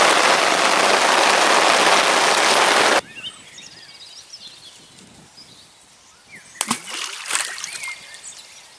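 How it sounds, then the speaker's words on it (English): Steady heavy rain pours loudly at a carp fishing lake for about three seconds, then cuts to a quieter outdoor scene with faint birdsong and a few brief clattering knocks. "I think you've had enough of looking at rain."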